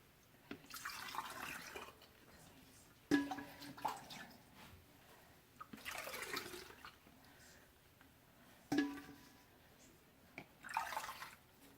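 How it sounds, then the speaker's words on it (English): Chicken bone broth poured into a glass canning jar, three separate pouring bursts of watery splashing and trickling, each swelling and tapering off, with quiet pauses and a couple of sharp clinks of the jar between them. "I think I have enough broth to fill this one."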